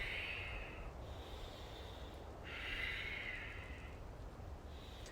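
Strong nasal breaths in a standing forward fold during a power yoga workout for men: two or three long, hissing inhales and exhales, close and steady over a low background hum, with no talking.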